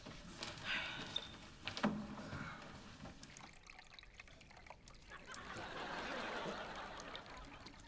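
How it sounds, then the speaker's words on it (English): An indoor waterfall in a bedroom trickles and splashes, swelling into a steady stream of running water, with brief faint voices nearby early on. "It's my waterfall."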